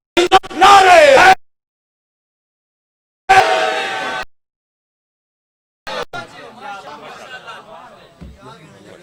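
At a Shia religious gathering, a leader's loud call is answered by a crowd shouting slogans together, with silences between bursts and a rougher, overlapping group chant at the end.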